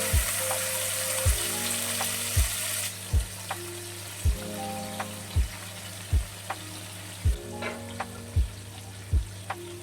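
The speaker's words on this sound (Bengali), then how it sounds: "ভেজে নেব চিংড়ি মাছ।" Prawns frying in oil: a steady background sizzle running under regular low rhythmic thumps and sustained tones, like music playing along.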